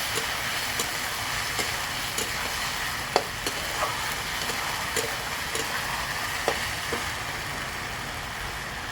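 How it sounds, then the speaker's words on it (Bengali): A steady, close sizzle of ginger, cumin and chili paste frying in a pan, with scattered soft scrapes and taps as it is stirred. "এটা আমি দিয়ে দেবো, দিয়ে একটু নাড়িয়ে চাড়িয়ে দেবো।"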